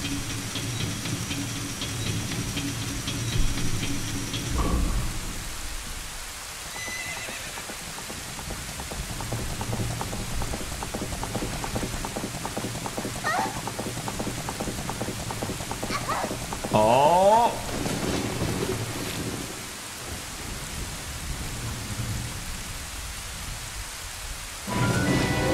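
Thunderstorm in The Legend of Zelda: Ocarina of Time, with steady rain hiss, deep rolling thunder rumbles and a sharp crack near the end, plus scattered game effects.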